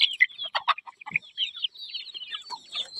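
Chickens let out on a village morning cluck and squawk close by in a busy, uneven run of short calls, with some higher chirps in the background.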